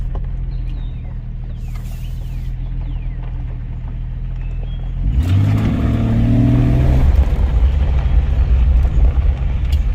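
A car modified to sound louder without exhaust work idles with a low rumble, then revs up hard and holds a loud, throaty roar close by.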